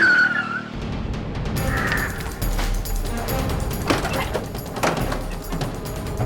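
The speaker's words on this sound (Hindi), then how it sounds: "बस रोको गाड़ी।" A car's tires skid and squeal as it brakes hard to a stop, a loud, close screech with engine rumble and mechanical clunks lasting several seconds.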